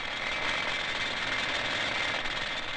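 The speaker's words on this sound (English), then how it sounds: "A drilling machine called a jumbo drills 2 holes at a time into the rock so the dynamite can be inserted." A jumbo drilling machine bores two holes at once into rock inside an underground tungsten mine, producing a steady, unbroken mechanical roar and rattle at moderate level with no talking.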